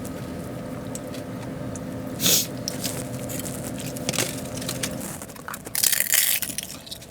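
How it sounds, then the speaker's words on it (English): Someone eats a taco in a parked Tesla, giving a few close crunchy bites and chewing scrapes over a quiet hum, with a louder crunchy burst toward the end and no talk. "I might eat this taco"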